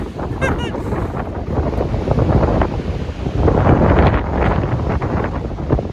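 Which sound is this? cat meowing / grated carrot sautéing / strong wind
strong wind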